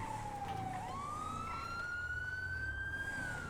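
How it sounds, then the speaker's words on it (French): Police car siren in a BCSO training video game, one steady wailing tone that dips and then climbs into a long sustained pitch, loud and continuous with no talking over it. "C'est ta sirène?"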